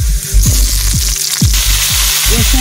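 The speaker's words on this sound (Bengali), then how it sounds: "কেটে পরিষ্কার করে রাখা পেঁপে আলুগুলো আমি কড়াইতে দিয়ে দেব।" Papaya and potato pieces fry in a wok with loud, close sizzling, while several sharp scraping strokes of stirring break through at a steady, uneven rhythm.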